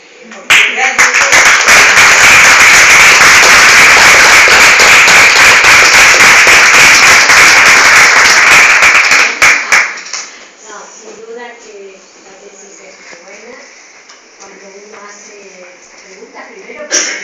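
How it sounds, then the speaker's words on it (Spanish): A roomful of people at a thesis defense breaks into loud, sustained applause lasting several seconds, then fades into a single voice talking. "los invito a que la aplaudamos"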